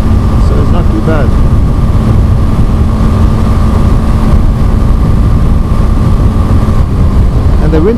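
A BMW G 310 GS motorcycle running downhill at about 70 mph on a backroad gives a loud, constant engine drone mixed with heavy wind rush, with a rider talking over it.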